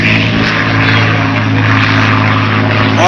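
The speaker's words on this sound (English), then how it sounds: "There'll be times when I want you to do nothing but listen to the sound of this award-winning family airplane." Loud, steady drone of a P-51 Mustang propeller aircraft engine flying close by, with a throbbing low hum and no speech.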